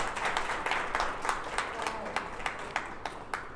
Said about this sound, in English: They should be applauded.